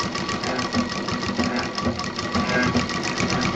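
A sewing machine stitches a fabric table mat, running in a steady, continuous rapid mechanical chatter throughout, close and fairly loud with no pauses.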